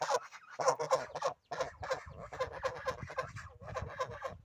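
A flock of geese and other fowl on a village poultry yard honking and calling loudly and continuously, with overlapping nasal cries close by and a brief pause early on.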